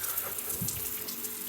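Water driven by a running motor pump pours into a farm well, a continuous steady gush and splash that stays even and unbroken.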